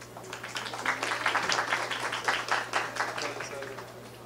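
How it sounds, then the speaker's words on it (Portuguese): Applause breaks out at a Brazilian 2018 election forum for a visiting researcher, the scattered clapping fairly steady and moderately loud for several seconds, with a low steady hum underneath. "Por favor, uma salva de palmas."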